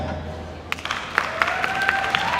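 Scattered applause rises suddenly partway through and continues as loose, uneven clapping for a coffee championship competitor at the Singapore National Coffee Championship 2025 finals, fairly distant under a steady room hum.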